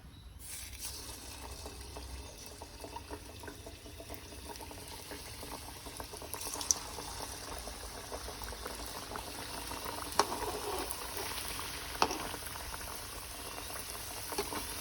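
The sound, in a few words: samosas deep frying in hot oil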